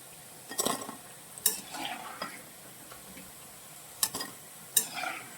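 Quiet oil sizzle in a pan as cauliflower for chilli gobi fries golden brown, broken by a few sharp metallic scrapes and clinks of a utensil stirring.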